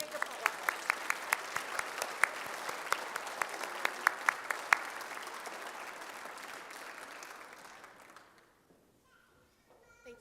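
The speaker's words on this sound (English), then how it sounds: "let's give everybody in this room a great big applause." A room full of people at a Girl Scouts recognition event applauding, with dense steady clapping and a few sharper claps standing out, fading away toward the end.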